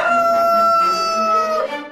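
A rooster crows loudly and clearly as a radio station jingle, one drawn-out cock-a-doodle-doo with bright harmonic tones lasting nearly two seconds, alone with no talk.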